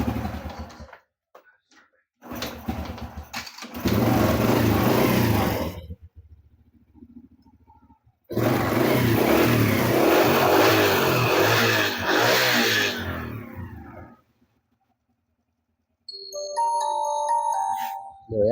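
A Honda Supra motorcycle engine, just repaired after its carburetor flooded, starts and revs in loud sustained bursts with pauses between them, and a short electronic chime is heard near the end.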